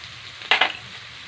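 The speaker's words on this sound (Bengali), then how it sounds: "আমি কুমড়োটা পুরো লাল লাল করে ভেজে নেব" Pumpkin pieces dropped into hot oil in a pan with turmeric give a short, loud burst of frying sizzle, two quick hissing surges about a tenth of a second apart that fade fast into quiet kitchen background.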